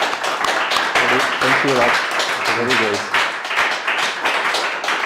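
Audience at a NestJS developer meetup in Vienna clapping steadily for several seconds, a dense near crackle of many hands, with someone briefly speaking over it.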